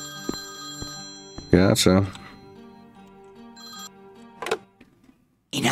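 A telephone ringing in the video game Priest Simulator, sustained ringing tones with a few short chirps, with game character voices speaking over it.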